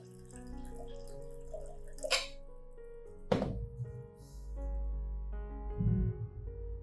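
Water poured into a container to dilute fermented plant fertilizer, a steady pour with a few knocks and splashes, close by.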